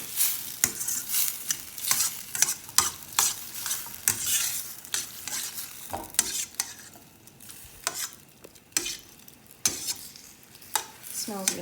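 Pasta is fried in lemon sauce in a pan with a soft, steady sizzle, while repeated sharp scrapes and clacks of a utensil stirring it come close and irregular, with no voices.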